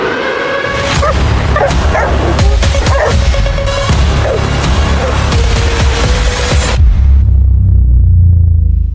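Farm dogs barking repeatedly, several sharp loud barks and yips in quick irregular bursts over a low rumble, with whimpering mixed in, before the noise cuts off near the end.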